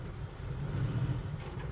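A 1976 Chevrolet Monte Carlo with a 572 big block V8 idles nearby in a steady, deep low rumble with a slight swell midway, alone and without talk.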